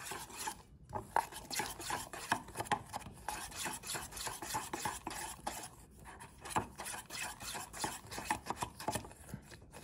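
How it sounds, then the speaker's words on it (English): Spoon scraping and stirring through taco meat and seasoning in a bowl, a steady run of close, rasping strokes in an uneven rhythm with no talking. "we'll get that mixed up with our marinade"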